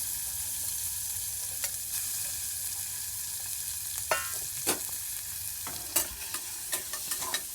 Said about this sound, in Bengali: তো গাইস তোমরা দেখলে মা এখন ভেজিটেবল ভাজছে